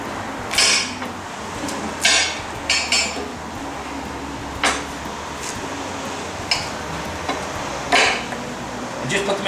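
A knife cuts washed potatoes into quarters on a board in a home kitchen, giving a series of sharp separate chops and clicks spaced a second or two apart over a low background hum.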